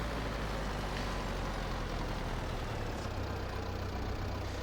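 A tractor engine in Farming Simulator 22 idles as a low, steady drone, faint and unchanging, with no other sounds over it.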